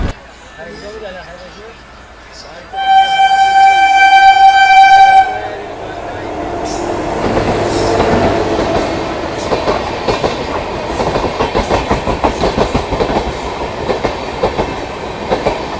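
An express train running between Jamnagar and Tirunelveli sounds a loud, sustained horn, then rushes past close by with clattering wheels and a steady roar, while someone talks.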